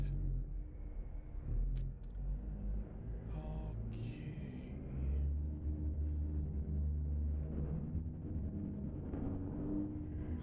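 A truck engine in the American Truck Simulator video game rumbles continuously with a deep, steady low drone that swells slightly as it revs, heard alone and close.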